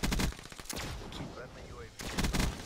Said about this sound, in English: that's a good shot right there